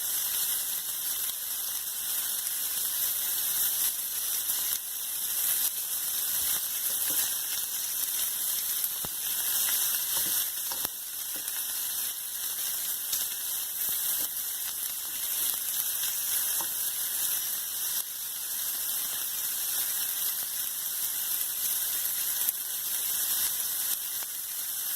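About 120 grams of butter melts and sizzles in a pan with steak, a loud, dense hiss that crackles evenly throughout, with no talking.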